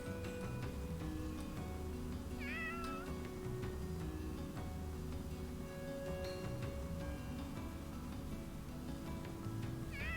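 In the Fire Emblem Three Houses video game, a cat gives a few short meows that sit over a constant layer of game music and ambience.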